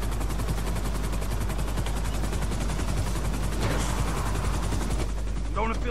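Helicopter coming down to land in the GTA V video game, a loud continuous rapid rotor chop with a steady engine roar throughout, close and dominant.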